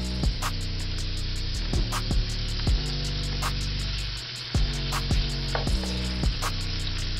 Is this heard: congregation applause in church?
no